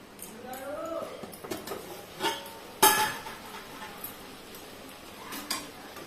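Brinjal fry being turned in a pan on low heat, with scattered spatula scrapes and metallic clinks, close and moderately loud, one sharper clatter in the middle and a voice talking faintly underneath.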